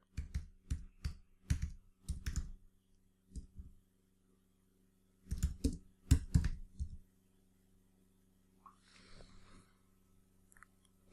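Short bursts of clicky computer-keyboard typing, close and fairly quiet, in several quick clusters separated by pauses, with a low steady hum beneath and a faint murmur near the end.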